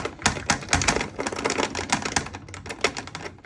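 Someone wrestles with the lock on a locked Smash TV arcade cabinet, producing a rapid, uneven series of sharp metallic clicks and rattles close by.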